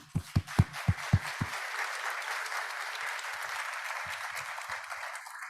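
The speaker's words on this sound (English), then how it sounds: "I'd like to give a big round of applause to the Exocobio team." Applause for the Exocobio team at a conference hall summit on exosomes, a steady wash of many hands clapping over several seconds, with a few heavy close claps at the start and faint scattered voices underneath.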